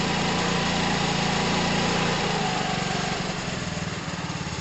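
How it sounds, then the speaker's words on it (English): A small engine is revved close by, a steady loud droning roar that wavers and shifts in pitch partway through, heard alone without talk. "Watch when I rev it."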